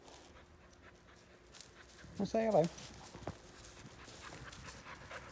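Lucy the dog gives one short, high whimper among soft panting breaths, close by, while a person speaks quietly.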